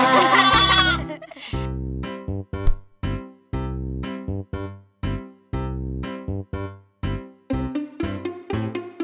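Bleating-style voices sung in short repeated bursts over a bouncy children's song about a sheep at school, likely a voice imitating a sheep's baa, loud and close with music throughout.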